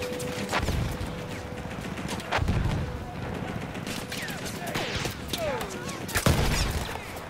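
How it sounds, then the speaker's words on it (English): Battlefield 1 artillery and gunfire boom and crack in sharp, repeated blasts amid a busy wartime din, with a player talking at times. "that artillery just needs to go"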